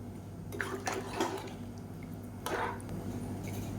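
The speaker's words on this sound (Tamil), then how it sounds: "இப்போ இந்த ஸ்டேஜில் குழம்புக்கு தேவையான அளவுக்கு தண்ணி சேர்த்துக்கலாம்" Heated water is poured into a simmering Tamil kulambu curry, giving soft, faint splashes and gurgles in a few short surges over a low background hum.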